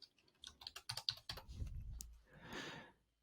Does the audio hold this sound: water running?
no